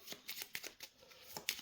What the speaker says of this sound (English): all these cards here, we're going to shuffle these up